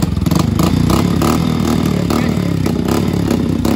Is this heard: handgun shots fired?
no